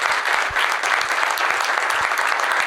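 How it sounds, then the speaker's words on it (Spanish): A Rotary Club meeting audience in Buenos Aires applauds a member's birthday, with sustained, full-room clapping and a few sharper individual claps standing out near the start. "les pido un gran aplauso para ella"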